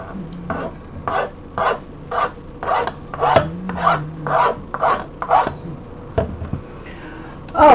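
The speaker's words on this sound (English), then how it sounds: "Fresh aloe vera, when you scrape it out like this" Fresh aloe vera gel is scraped out of the leaf in a steady run of about a dozen wet, rasping strokes, close and moderately loud, with soft background murmur between them.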